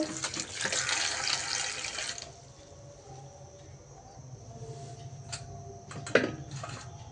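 Tap water runs loud and steady over sweet potatoes being washed for parathas in a home kitchen, then cuts off into quieter handling, with a brief splash or knock near the end.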